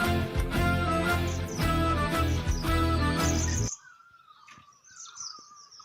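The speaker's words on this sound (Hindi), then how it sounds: "देखिए कितनी चिड़ियों की चहचहाट है" Morning birds chirping in a hilly valley village: after loud music cuts off, light scattered tweets and calls come from a short distance, faint and sparse in the quiet.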